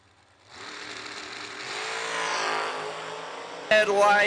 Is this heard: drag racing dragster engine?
yes